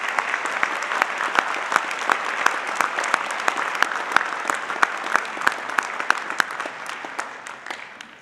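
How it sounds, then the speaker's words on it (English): Audience applause for award winners at a high school community scholarship ceremony: dense, sustained clapping from a crowd, steady for several seconds before tapering slightly at the end, with almost no talking. "How about a round of applause, please,"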